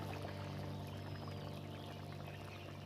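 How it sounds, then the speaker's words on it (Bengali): A spoonful of oil poured into an egg and poppy-seed curry, a steady close-up stream of pouring over a constant low kitchen hum for about three seconds, with no talking. "এটা হচ্ছে সয়ের তেল এক চামচ আমি দিয়ে দিচ্ছি"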